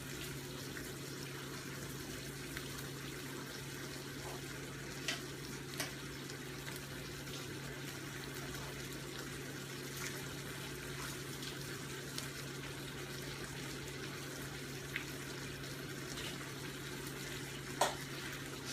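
Water drains off freshly cooked udon noodles, a steady soft pour and hiss with a few small clinks, fairly quiet and continuous for most of the stretch.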